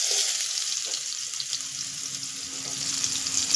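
Finely chopped onion with cumin seeds sizzles in hot oil in a kadhai, a steady bright crackling hiss close up with faint clinks of stirring and no talking.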